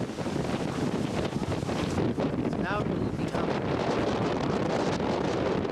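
Loud, roaring wind on Grandfather Mountain buffeting the microphone without letup, with a brief spoken remark partway through.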